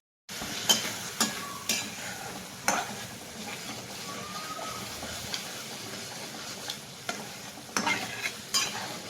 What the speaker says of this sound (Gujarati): અને પછી હલાવવાનું